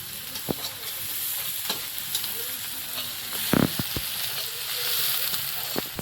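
Spice masala sizzles in a pan for a goat meat curry, a steady frying hiss punctuated by several sharp clacks and scrapes of a spoon against the pan, with no one speaking.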